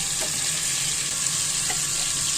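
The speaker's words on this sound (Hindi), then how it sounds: "हम इसको गोश्त को थोड़ा सा फ्राई करेंगे" Beef pieces frying in a pan for spinach curry, a steady hiss of sizzling oil with faint stirring clinks, close and continuous.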